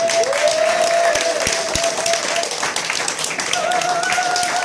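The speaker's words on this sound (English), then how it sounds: "can we, before I go, have a massive round of applause for Lucas Drinkwater" A live pub gig audience at the Globe Inn in Exeter breaks into loud, dense applause and scattered cheering for Lucas Drinkwater, sustained throughout, with a sustained tone ringing over the clapping.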